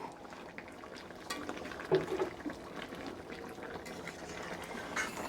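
Curry simmers and reduces in a pot, a soft bubbling and sputtering close by with a few small clinks, quiet and steady without speech.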